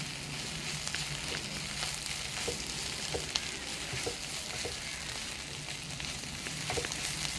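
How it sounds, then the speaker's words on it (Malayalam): Spices with a quarter teaspoon of garam masala sautéing in a pan for Kerala fish molee, a steady close sizzle broken by small scrapes and stirring clicks throughout, no talking. "എന്നിട്ട് നമുക്കൊന്ന് സോട്ട് ചെയ്തെടുക്കാം."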